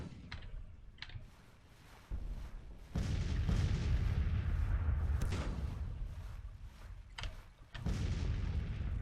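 Heavy artillery booms and rolling gunfire from a Grand Tactician Civil War battle, with sharp cannon blasts punctuating a dense, continuous rumble of musketry at a steady loud level.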